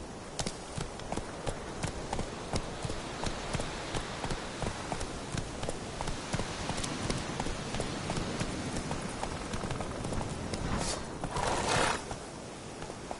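Hooves of the horse Roach clip-clopping at a gallop in The Witcher 3, a quick steady rhythm on the ground with a short whinny near the end, fairly quiet overall.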